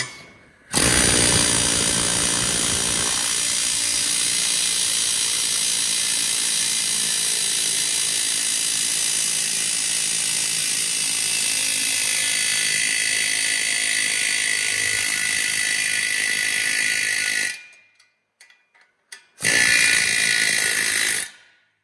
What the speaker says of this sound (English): And then you just take your normal ratchet.